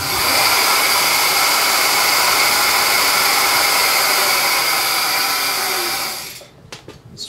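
An electric bike motor with a sine-wave controller runs at full throttle, making a loud, steady, high whine that holds for about six seconds before cutting off abruptly.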